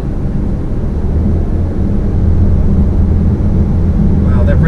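Low, steady drone of a Subaru Ascent's four-cylinder boxer engine while driving, heard from inside the cabin as a constant rumble mixed with road noise, with a faint rising tone at the very end.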